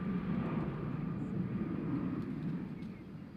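A British Airways airliner from London Heathrow approaches Nashville airport, producing a faint, distant engine rumble that builds slightly, then fades.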